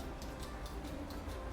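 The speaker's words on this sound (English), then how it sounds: "Can you hear it ticking?" A kitchen oven timer ticks steadily in a home kitchen, about twice per second, crisp and fairly close over a low background hum.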